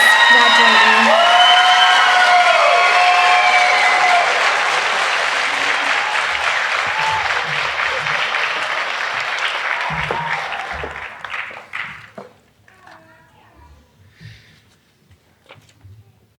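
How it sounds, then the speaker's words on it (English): Graduation audience at an online academy ceremony applauding and cheering, loud clapping with whoops and shouts that taper off after about ten seconds into scattered claps, sniffs and room noise. "One more time, a round of applause for the amazing Navigator leaders graduating."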